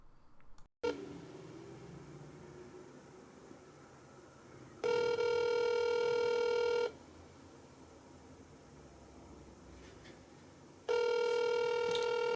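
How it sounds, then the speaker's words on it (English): Outgoing call ringback tone from a TMHAI Bluetooth calling smartwatch: two steady two-second rings separated by a long quiet gap over faint room hiss, with no talking. "I'm making phone calls on this watch."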